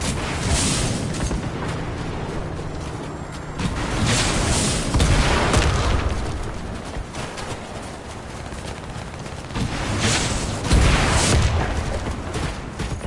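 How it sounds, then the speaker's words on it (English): Rocket launchers in the video game Warface firing on a cruiser, with a run of heavy booms and rumbling blasts that surge and fade across the span, loud and continuous with no talk. "Take out that cruiser with the RMG launchers"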